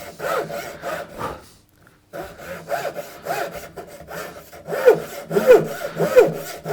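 A hand saw cuts through wood for a small box in steady back-and-forth strokes, starting with light, careful swipes, pausing briefly, then settling into a firmer rhythmic rasp, close and clear with no talking.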